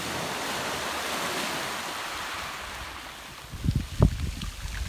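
Steady wash of ocean surf along a beach with wind blowing over the microphone, then a few close crunching knocks near the end, with no talking.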